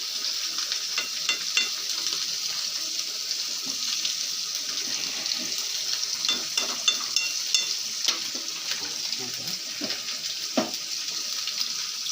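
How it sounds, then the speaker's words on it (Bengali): Fig curry cooking in a pan as ghee is added, with a continuous crackling sizzle and frequent small stirring taps and clicks throughout, close by and without talk. "এই যে একটু ঘি দিয়ে দিলাম। এই যে ঘি দিচ্ছি।"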